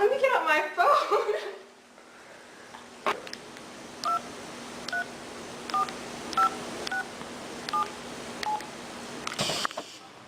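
A phone being dialed, a short sequence of about eight distinct touch-tone beeps at an uneven pace, heard after a burst of laughter and talk.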